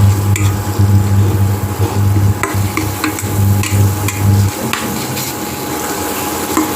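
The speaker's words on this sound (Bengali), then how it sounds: "মশলাটা ভালো করে আমি কষিয়ে নেব।" Spice paste for a chicken curry is stir-fried in a pan, a wooden spoon scraping and stirring in repeated strokes over a soft sizzle, close and fairly loud, with a low steady hum beneath.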